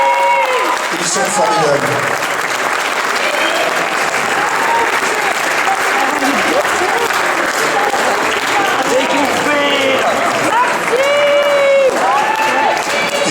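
Crowd at a protest action by intermittent and precarious performing-arts workers in Besançon, applauding performers with sustained, dense clapping and some cheering, loud and close, while a voice speaks over it.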